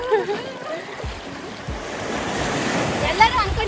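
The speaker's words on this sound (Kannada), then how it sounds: "ಈ ಅಲೆ ಸೌಂಡ್ ನೋಡಿ ಹೆಂಗ್ ಬರುತ್ತೀಗ" Sea waves break and wash continuously on Tilmati's black sand beach near Karwar, a steady surf roar with wind buffeting the microphone and a person talking over it.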